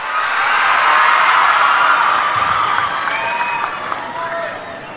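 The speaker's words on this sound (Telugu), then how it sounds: "పడ్డాయంటే గట్టిగా చప్పట్లు కూడా రంపచోడవరం మొత్తం వినపడాలి" A large crowd at a mega parent-teacher meeting in Rampachodavaram claps and cheers loudly. The applause is dense and sustained, then thins slightly toward the end.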